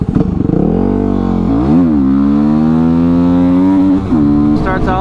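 A Yamaha WR250R motorcycle engine hums steadily up close on a twisty, hilly road, revving up and down through gear changes with a brief throttle blip and a rise near the end.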